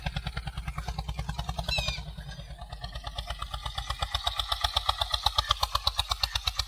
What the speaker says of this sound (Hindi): और आवाज क्या शानदार आवाज है ट्रैक्टर की।